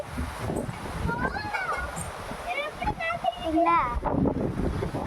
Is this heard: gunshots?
no